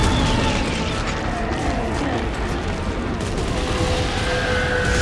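Sustained gunfire and bursts from the video game Dead Space 3, a dense, loud wash of shots and booms filling the whole stretch without clear gaps.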